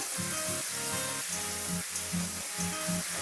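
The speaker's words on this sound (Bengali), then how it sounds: "কিছুক্ষণ সময় ধরে চাল কুমড়োটাকে ভেজে নিব" Ash gourd pieces seasoned with salt and turmeric fry in a pan, a soft steady sizzle with faint stirring scrapes, fairly quiet and without talk.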